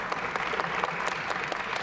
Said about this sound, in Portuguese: as palmas estão rolando